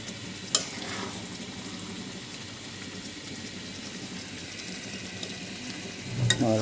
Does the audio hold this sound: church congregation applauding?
no